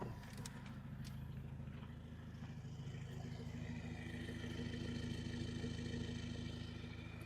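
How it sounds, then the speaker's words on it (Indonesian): A 2012 Toyota Fortuner TRD with a remapped engine and full-system exhaust idles with a steady, deep rumble. The low engine burble holds constant and close, with no talk over it. "Coba pengen denger suara knalpotnya."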